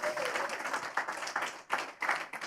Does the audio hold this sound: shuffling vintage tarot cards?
no